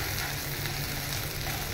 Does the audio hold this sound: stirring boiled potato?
yes